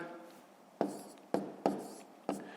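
Pen strokes on paper while writing out numbers for column multiplication in a fifth-grade maths exercise: four sharp, brief scratches, each fading quickly, with quiet gaps between them and no voice.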